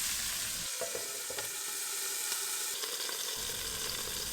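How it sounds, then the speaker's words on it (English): Onions and garlic fry on high heat in a single pot, a dense, steady sizzle with occasional scrapes and clicks as the pan is stirred, close and without talk. "I'm gonna continue to turn to get some nice brown color along with the onions and garlic"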